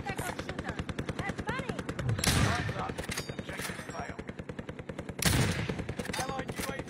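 Rapid bursts of automatic gunfire and a few heavier shots ring out in an online shooter game, dense and continuous, with excited players talking over the shooting.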